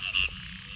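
A frog gives a short, close croak beside flooded fields after a night of heavy rain, with a fainter chorus faint in the background.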